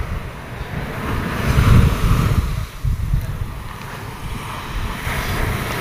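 Strong wind buffets the microphone at a beach while surf rumbles and washes in steadily, a loud, continuous roar with swelling gusts.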